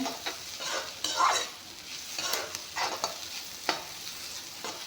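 Potatoes cooking in a pan, a gentle steady sizzle with repeated stirring scrapes and taps of a utensil at close range.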